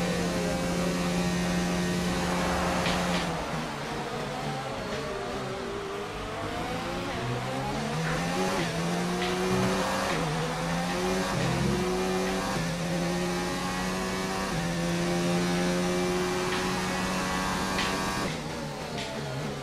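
Formula 1 race cars in the video game F1 2019, engine whine rising and falling as cars pass near the pit lane, with steady hum and sharp transients, no talk.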